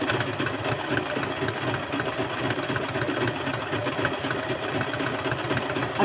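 A sewing machine stitching braid trim, running as a steady, continuous mechanical whir with a fast, even rhythm throughout, close and fairly loud with no talking.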